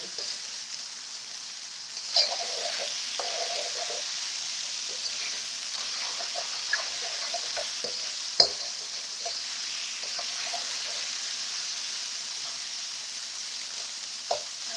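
Beef stir-fries in a hot pan for Chinese New Year cooking, giving a steady close sizzle with occasional sharp pops and spatters throughout; no voices.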